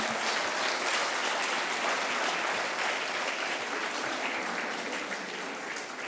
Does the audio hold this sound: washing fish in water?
no